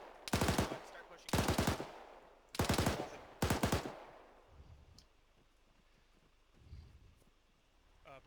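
Gunfire during a dismounted convoy operation: four loud, close bursts of automatic fire in the first few seconds, then quieter outdoor ambience with wind and faint rustling.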